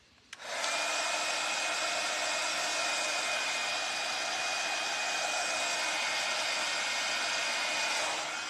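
A hair dryer blows steadily on an acrylic paint pour over a Dollar Tree jar, switching on with a click and then roaring loud and unbroken up close.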